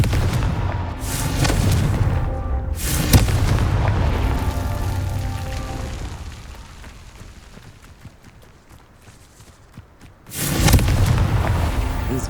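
Confringo fire spell bursts from Hogwarts Legacy, loud booming explosions near the start and again late, with a rumbling tail fading between them.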